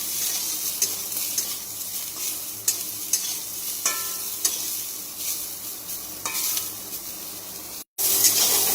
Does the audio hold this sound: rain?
no